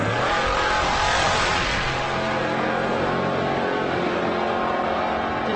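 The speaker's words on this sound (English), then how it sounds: "Just love the sound of those trucks taking off down here." Off-road race trucks launch from the starting line of the SCORE Baja 400 in 2025, a loud continuous engine roar swelling then holding steady, close and alone without talk.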